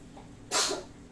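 A single sneeze bursts out near and loud in a home kitchen, a short breathy blast over quiet room tone.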